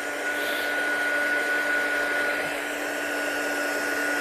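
A handheld heat tool blows a steady, loud whirring hum while heat-setting embossing powder in white for a resist embossing craft technique, running alone without talk.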